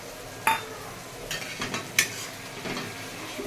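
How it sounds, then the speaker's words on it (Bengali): A spoon stirs tomato into masala frying in a pan for mutton kosha. Faint scraping and a few sharp clinks of metal on the pan sit over a low, steady sizzle. "এটা দিয়ে নাড়তে থাকবো"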